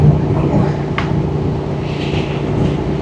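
A one-owner motorcycle's engine runs at idle, a steady low rumble that holds even throughout, fairly loud and close.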